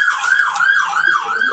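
An emergency siren wails outside with a steady, rising and falling tone in quick regular cycles, loud and clear with no speech over it.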